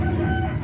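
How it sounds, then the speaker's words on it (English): Chickens next door cluck and crow steadily through a short stretch, fairly close and moderately loud, with no talk over them. "excuse the chickens next door"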